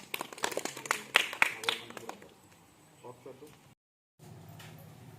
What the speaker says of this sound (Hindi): जरा अपने लिए ताली बजा लो।